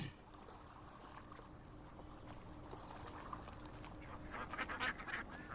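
Ducks quack near water amid a low background hum, with calls growing busier and louder toward the end.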